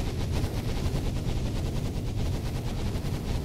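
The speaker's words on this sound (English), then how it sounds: "Stop firing!" Weapons fire nonstop in Minecraft's FTB Sky Factory 3 modpack, a dense rapid rattle like automatic gunfire that stays loud and steady throughout with no breaks.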